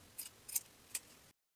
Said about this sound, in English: Trim the pointed ends of the seam allowance.